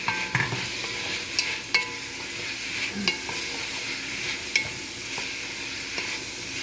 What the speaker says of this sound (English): We're gonna stir fry.